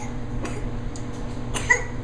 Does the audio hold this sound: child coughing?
yes